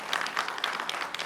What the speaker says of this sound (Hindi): आप लोगों के लिए ताली बजाता है